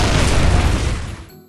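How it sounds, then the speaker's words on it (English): A cannon fires in the video game Bloodborne with a single loud, dense blast that fills the clip and then fades quickly into a short decaying rumble, with no talking. "unless you're talking about the big old cannon."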